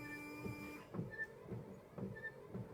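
Wiper motor on a 1965-70 GM full-size car running with the washer on, a faint mechanical hum that gives way to soft rhythmic thumps about every half second as the blades sweep, quiet and alone.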